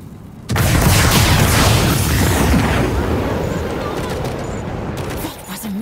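A missile launcher fires in the zombie shooter World War Z, a loud roaring blast that holds as a sustained rumbling wash for several seconds and fades only slightly toward the end.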